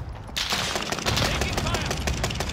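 Heavy gunfire in Warzone, a rapid and dense burst of automatic shots that starts sharply after a brief moment and stays loud and continuous, with faint game chatter underneath.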